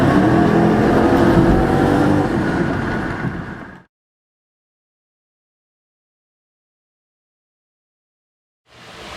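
A Ford Mustang GT V8 engine roars loudly as it accelerates for a few seconds, then cuts to silence before the engine noise returns.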